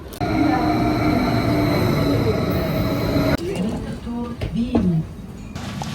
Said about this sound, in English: We're on the first of two trains towards Stein am Rhein